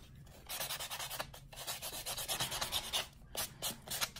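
Steady back-and-forth rasping of a nail file smoothing fingernails, close and fairly quiet, in short repeated strokes with brief pauses, no talking.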